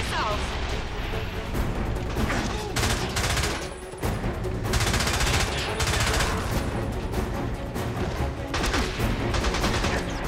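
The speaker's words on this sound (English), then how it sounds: "James, he's firing missiles." Dense gunfire and missile blasts from the video game Blood Stone, a continuous loud barrage of rapid shots and booming explosions with engine roar underneath and people talking over the din.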